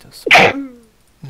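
A single loud, close sneeze bursts out sharply and trails off, with brief talk just before it and another voice starting at the end.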